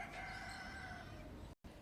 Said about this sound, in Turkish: Bak bizim horozlar, tavuklar